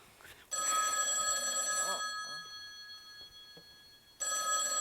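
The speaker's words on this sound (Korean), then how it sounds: "전화 소리예요." An old-fashioned telephone bell rings as a stage sound effect during a theatre play, two loud sustained bursts of ringing separated by a quieter pause.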